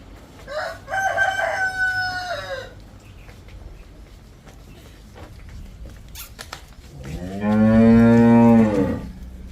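Two loud, drawn-out cattle moos a few seconds apart, with quieter farmyard rustling and brief clatter in between; no talking.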